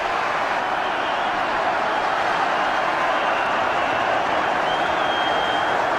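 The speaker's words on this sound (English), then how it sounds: "All the applause is now at the other end of the ground." A large football stadium crowd at the 1988 FA Cup semi-final between Luton and Wimbledon applauds and roars in a steady, unbroken wash of noise that sounds somewhat distant, from the other end of the ground.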